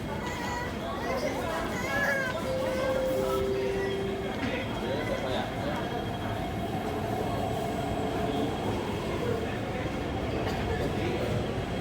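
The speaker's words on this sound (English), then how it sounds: "We can film the train out." MTR train at Tai Wai Station in Hong Kong, rumbling along the platform with a brief wheel squeal and steady rolling noise, while people talk nearby.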